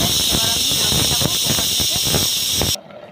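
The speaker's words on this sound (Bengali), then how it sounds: "আমি মটনটাকে কড়াই থেকে কুকারে ঢেলে নিয়েছি, কুকারে 4টে সিটি লাগাবো বলে" A pressure cooker holding mutton for biryani lets out a loud, sustained steam whistle with a hissing rush, close by, that cuts off abruptly near the end.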